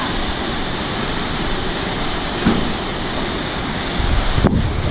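A canyon waterfall roars steadily and loudly, seen from a rappel line in the Bolulla canyon, with a constant broadband rush of falling water and wind buffeting the microphone.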